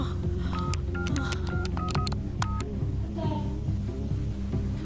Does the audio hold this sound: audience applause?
no